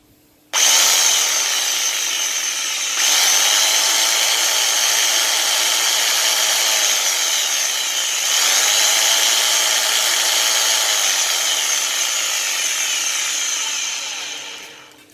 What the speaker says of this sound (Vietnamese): Rồi bây giờ test máy thử anh em coi. Cái này là chỉ một chức năng cưa nha anh em.